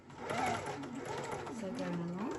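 A sewing machine stitches a quilted pillow side seam, a quiet, steady mechanical whir under a woman's continuous speech.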